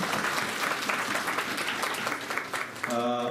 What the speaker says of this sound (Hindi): उनका भी जोरदार तालियां बजा के स्वागत करें